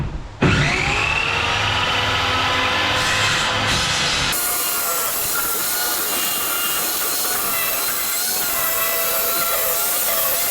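A power saw starts with a sharp whine and cuts wood for an IKEA bed in a campervan rebuild, a loud sustained buzzing grind that shifts pitch partway through, with no talking.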